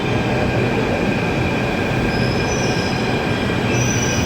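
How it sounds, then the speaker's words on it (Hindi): A Delhi Metro train rumbles loudly and steadily close by during heavy rain, with high-pitched wheel squeal sustained over the roar. "मेट्रो नहीं आई है, मेट्रो आएगी तो घर जाएंगे हम आगे"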